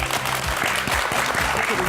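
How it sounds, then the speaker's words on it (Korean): A lecture audience gives steady, dense applause to welcome a marketing speaker, continuous and close throughout the short stretch with no breaks. "큰 박수로 맞아주세요"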